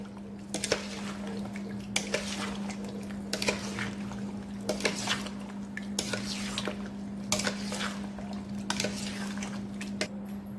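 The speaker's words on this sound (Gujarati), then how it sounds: "અને આવી રીતે આપણે ઉમેરી દઈશું બધી કેરી. અને મિક્સ કરી લઈશું." Sour mango pickle is mixed in a pot with a utensil, giving repeated wet scraping and clinking strokes every second or so over a steady background hum.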